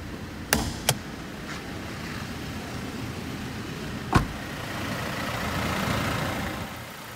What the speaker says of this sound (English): It has the 1GD FTV straight 4 common rail diesel engine with variable nozzle turbocharger.